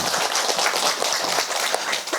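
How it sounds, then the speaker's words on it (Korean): An audience claps together in a talk setting, a brisk, dense burst of applause with individual hand claps audible, steady and fairly close for a couple of seconds. "여러분 박수 부탁드릴게요."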